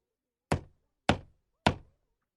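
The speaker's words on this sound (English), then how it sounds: "Little Red Riding Hood knocks on the door of Grandma's house." Three firm knocks on the wooden door of Grandma's house, evenly spaced about half a second apart, close and clear against silence.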